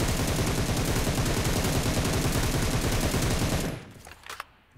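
Rapid automatic fire from an M7 rifle in a mobile shooter game, a dense, loud, continuous burst lasting several seconds before cutting off abruptly, followed by a few faint trailing clicks.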